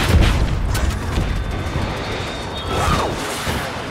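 Missile explosions in Battlefield 2042, a run of heavy booms and rumbling blasts layered over constant battlefield noise, loud and close, with no clear gaps between impacts.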